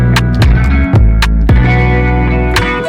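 A beat plays with layered kick drum and rim shot samples struck together, punchy low thumps and sharp clicks over sustained tonal layers, loud and upfront with no talking.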